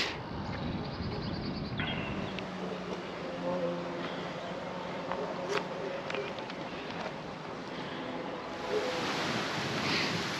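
Wind sweeping across a steep hillside in a hilly Sicilian town, a steady, close, broadband rush with gusty swells that stays loud for the whole stretch.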